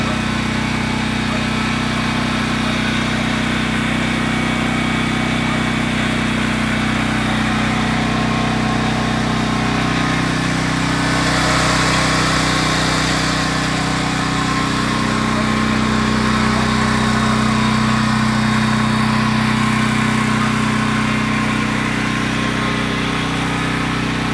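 A Westinghouse 13,500 watt tri-fuel portable generator running steadily, a loud, even engine drone with a low hum that holds constant for the whole stretch, no voices.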